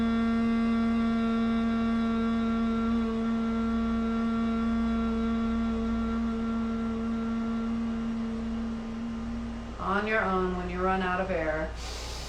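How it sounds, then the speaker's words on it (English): A group hums with mouths closed during a guided breathing exercise, a steady sustained drone with rich harmonics lasting about ten seconds, then shifting into a wavering, pitch-sliding hum near the end. "humming with the mouth closed"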